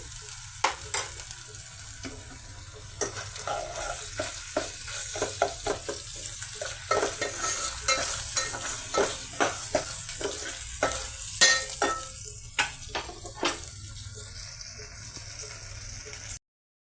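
Onion pieces and green chillies sizzle steadily in hot oil, with a constant bright frying hiss and frequent scraping stir clicks from a utensil in the pan, close and continuous.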